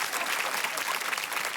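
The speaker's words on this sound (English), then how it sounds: "Everyone, big round of applause for the gorgeous Morag." Studio audience at a comedy panel show breaking into dense, steady applause, loud and sustained throughout the short burst.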